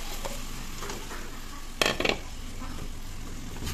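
Colocasia (taro) leaves fry with ground coriander and cumin in a pan. A faint steady sizzle runs throughout, broken midway by a brief loud clatter of utensil against metal.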